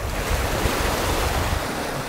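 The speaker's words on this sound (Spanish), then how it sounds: "también ver las olas" Ocean waves break and wash up on a beach, a steady, loud roar of surf with wind buffeting the microphone throughout, and no voices.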